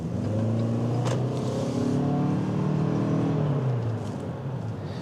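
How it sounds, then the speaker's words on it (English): A 2024 Toyota RAV4 Hybrid XSE AWD accelerates from inside the cabin, engine tone rising steadily in pitch over several seconds before easing off, loud and continuous with no talk. "very satisfying acceleration for this type of vehicle"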